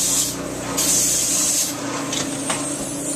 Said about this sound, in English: let's get a little footage of these guys spraying the bottom here